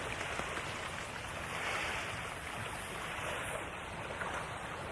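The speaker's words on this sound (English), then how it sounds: "Listen to that water." Flooded river water flows in a steady, broad wash of rushing noise, soft and constant with no breaks, heard without voices.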